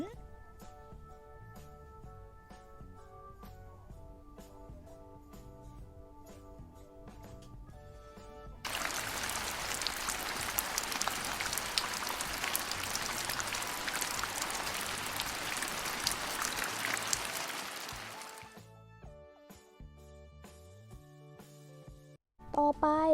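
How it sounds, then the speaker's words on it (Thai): Steady, dense rain pours down for several seconds, loud and hissing, framed by quiet musical tones before and after. "เมื่อเมฆรวมตัวกันจำนวนมาก จนอากาศไม่สามารถพยุงน้ำหนักของละอองน้ำได้จึงตกลงมาเป็นฝน"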